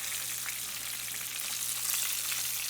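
Lake trout fillets pan frying, a steady dense sizzle and crackle of hot oil close up, continuous and even with no voices.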